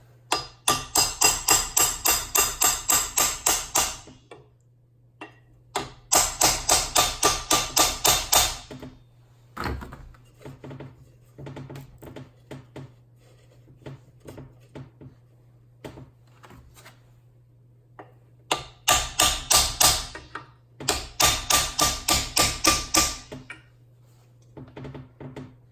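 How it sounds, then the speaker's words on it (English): Hot tub pump motor bearing being tapped into its seat with a deep socket, with four bursts of rapid repeated metallic taps separated by quieter clinks and handling over a steady low motor hum. "we may have to tap this a little bit to get the bearing seated on both ends of the motor here"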